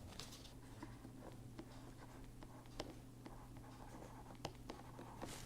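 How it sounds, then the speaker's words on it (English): Marker or chalk on a lecture board as a chemistry lecturer draws a biosynthesis pathway: soft scratches and light taps spread unevenly over a steady room hum, faint and close, with no talking. "So, I just go to the board now, and I will draw from reticulin onwards."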